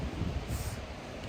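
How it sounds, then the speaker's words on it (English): Strong wind at night at the Lake Pearson campsite in New Zealand roars as steady, broadband rumbling buffeting against the microphone, with no voices over it. "It's very windy."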